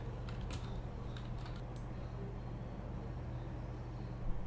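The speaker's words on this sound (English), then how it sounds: "This time I type fitness expert." Light keystrokes on a computer keyboard, a short run of soft taps early on over a constant low hum, close but quiet, with no talking.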